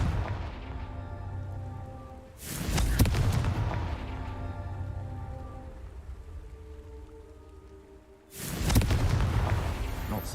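Loud booming blasts of the Confringo fire spell erupt in the video game Hogwarts Legacy, with two sharp explosive bursts separated by a lingering crackling rumble.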